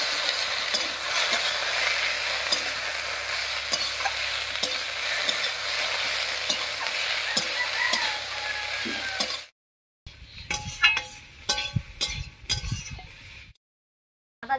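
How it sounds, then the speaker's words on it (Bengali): Banana stem stir-fried with spice paste in a pan, sizzling steadily and close, with rhythmic scraping and stirring strokes; after a brief gap the stirring returns in short clattering bursts, and no one speaks. "এবারে কষিয়ে নেব।"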